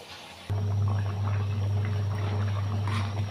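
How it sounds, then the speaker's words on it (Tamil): Tamil bottle gourd kulambu boiling in a pot, a soft steady bubbling and simmering with a low constant hum underneath, kicking in suddenly after a brief quiet start and continuing evenly. "அது வரைக்கும் குழம்பு நல்லா கொதிக்கட்டும்."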